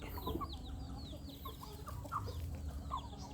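Burmese chickens cluck and chirp at a farm, a steady scatter of short calls near and far over a constant low hum of background noise.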